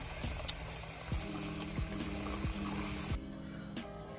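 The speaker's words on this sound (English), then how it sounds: "Okay, I need to fill this up with water now." Tap water running steadily into a container for boiling, a continuous splashing flow with faint clicks and knocks, the stream cutting off sharply near the end and leaving quieter room tone.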